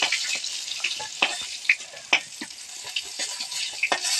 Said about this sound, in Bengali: এইভাবে সমস্ত পটলগুলো ভেজে নেব